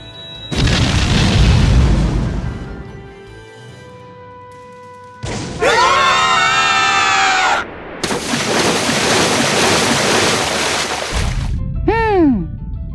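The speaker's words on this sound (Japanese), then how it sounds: "すごい爆発だ。" A loud explosion booms in a visual novel video game, a deep sustained burst followed by a second roaring blast and bright swooping effects.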